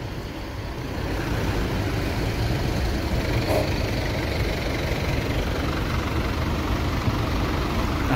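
Tronton trucks sit idling, a dense, steady diesel rumble with a slight knocking texture that swells in after the first second and holds evenly throughout, with no talk.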